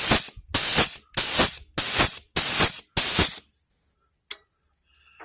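A manual trigger-squeezed grease gun pumps grease into a trailer wheel hub in six evenly spaced hissing bursts, loud and close. A couple of faint clicks follow in near silence.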